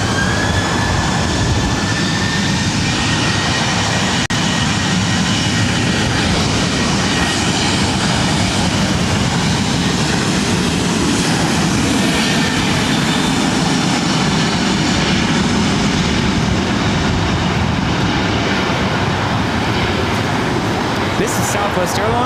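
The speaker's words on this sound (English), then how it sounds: "This is Southwest Airlines 2528 taking off to St. Louis on a 737-700" A Southwest Airlines Boeing 737-700 takes off from LAX with a loud, continuous jet engine roar that holds strong throughout, while someone talks faintly beneath it.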